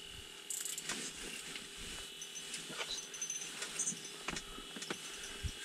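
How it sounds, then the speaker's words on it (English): A dog whimpers and gives short cries during an ice fishing outing on Lake Petenwell, the sounds mixed with light metallic jangling and clicks nearby. "What time did she start barking?"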